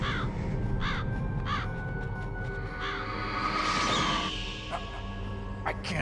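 Ravens caw repeatedly in the Metal Gear Solid video game, harsh rasping calls in short bursts spaced across several seconds. A low ambient rumble and a brief swelling whoosh sit beneath them.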